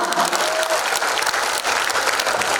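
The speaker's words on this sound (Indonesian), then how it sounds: "Tepuk tangan untuk kita semua." A crowd at a technical guidance event in Makassar, South Sulawesi, claps in dense, steady applause that holds at full strength from start to finish.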